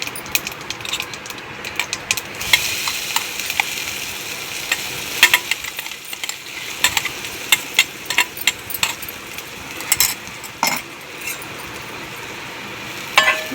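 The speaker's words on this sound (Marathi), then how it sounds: "आपले तेल गरम झाले, आपण जिरे घालून घेऊ। वाटलेला मसाला घालून घेऊ।" Cumin seeds and ground spice paste fry in hot oil for a fasting rice and amti dish, giving a steady loud sizzle with frequent clinks and scrapes of a spoon stirring the pan.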